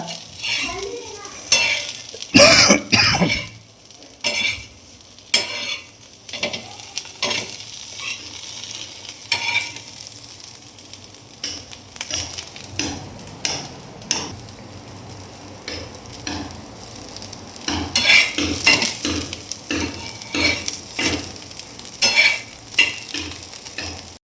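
Okra palya frying in a pan with chilli and tomato, a spoon stirring and scraping through the sizzling vegetables in irregular bursts, close and fairly loud, with soft sizzle underneath and no talking.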